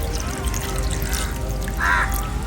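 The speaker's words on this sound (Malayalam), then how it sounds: "വെള്ളം ഒഴിച്ചു കൊടുക്കുക." Water poured into a pot of chicken, a steady rushing pour that swells briefly near the end, heard alone at close range.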